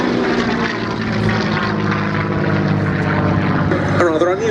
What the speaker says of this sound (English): And here we see the P-40F running in.